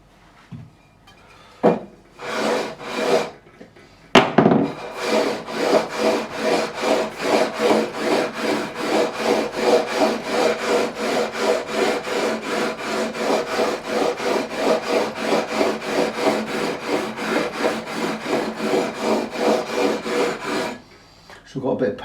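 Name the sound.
levelling beam sanding guitar frets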